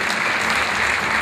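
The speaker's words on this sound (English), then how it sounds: "So let's give a round of applause, please, to Vicky Varden" An audience applauds at an award presentation, a dense, steady burst of many hands clapping together.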